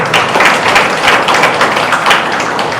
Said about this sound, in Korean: 이쯤에서 한번 박수 한번 크게 한번 주십시오